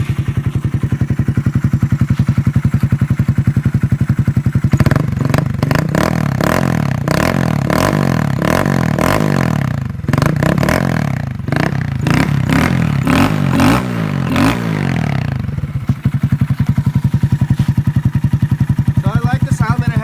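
Honda Grom motorcycle on its stock exhaust, before a Yoshimura system goes on, idles loud and close, then blips through a run of sharp revs in the middle before settling back to a steady idle.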